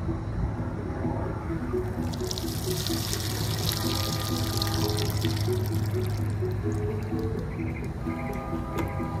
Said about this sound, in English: take your strainer, and you're going to want to be sure to pour on the side that doesn't have the opening